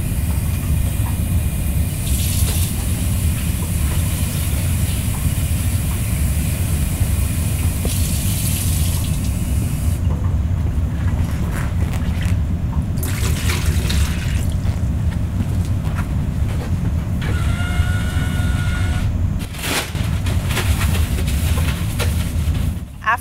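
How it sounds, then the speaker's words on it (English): Water runs steadily from a tap while a basin is emptied and rinsed during bedside perineal care, a loud continuous splashing rush with shifting gushes and clatter partway through, close by and without speech. "The candidate then empties, rinses, and dries the basin"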